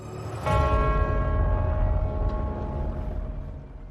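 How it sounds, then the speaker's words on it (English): The bells of St. Paul's Cathedral in London ring out with a single resonant strike that swells and then hangs in a long, slowly fading hum, heard alone in a clear setting. "In London, the bells of St. Paul's rang out, signalling a national crisis."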